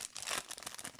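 A foil wrapper on a 2020 Topps Heritage or Opening Day baseball card pack is torn open, making a quick burst of close, crisp crinkling and tearing that lasts about a second.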